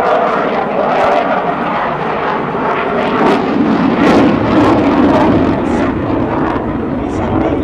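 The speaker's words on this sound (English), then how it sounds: "Notice how the aircrew can execute a maximum performance loop away from the crowd." An F/A-18F Super Hornet jet flies a maximum performance loop at an air show demonstration, a loud, sustained roar that swells and fades while an announcer talks over it.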